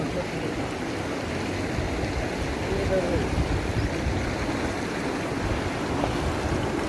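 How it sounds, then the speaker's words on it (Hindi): Stream water flows steadily through Soq Valley near Skardu, Pakistan, a broad continuous rushing wash at close range with no pauses across the whole stretch. "ये जो पानी गुज़र रहा है सोक वैली का"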